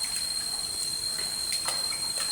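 A stream of water flows inside a wide cave with stalagmites, giving a steady, moderately loud rushing hiss with faint splashy accents, no voices over it.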